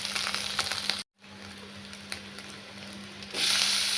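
Ginger and cumin fry in hot oil in a pan for a Bengali mixed vegetable curry, a close crackling sizzle that cuts out briefly, returns softer with a steady hum, then swells louder.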